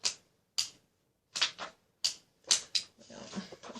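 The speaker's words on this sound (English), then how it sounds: "I'm going to clip the corners on this." Corner punch clipping the corners of card paper, a series of sharp, close clacks in an uneven rhythm, roughly eight snaps with short pauses between and a softer rustle at the end.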